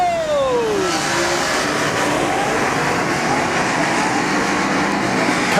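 FH Group Superstock race cars roar around a slippery oval track during a heat, a dense continuous engine din with one car's pitch sweeping down as it passes, no talk.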